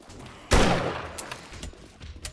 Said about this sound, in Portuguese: Vou dar um tiro de fuzil.